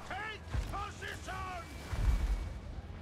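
Mortar fire in a Total War fantasy battle game, a few deep booming thuds at a distance, mixed with sharp voiced battle cries from the game.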